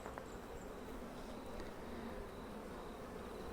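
Honeybees buzzing in an open beehive, a steady soft drone with faint individual wing sounds passing, heard at low level with no talking.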